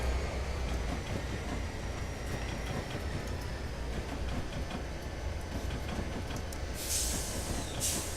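A train rumbles steadily along the track in the Railworks simulator, a constant loud low roar with faint rhythmic clicks and a bright hiss swelling near the end.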